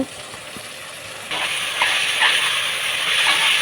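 Fenugreek leaves hit hot oil in a pan, setting off a steady hissing sizzle that jumps in loudness partway through and then holds, close and continuous with no talking.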